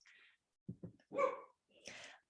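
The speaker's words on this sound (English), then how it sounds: "I'm sorry for the dog barking in the background." A dog barks in a home during an online webinar: a few short, fairly faint yaps at the start, then a longer bark and a final one, with quiet breathy noise between.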